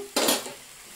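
A sudden burst of sizzling as ponnaganti greens and eggs frying in a pan are stirred, then the hiss settles to a steady lower crackle.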